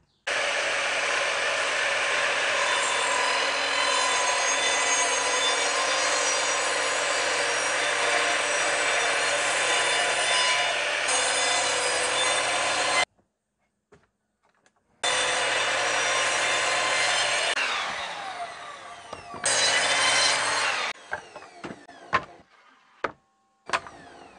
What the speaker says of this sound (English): I'm going to go through all these first and just cut off the bad ends.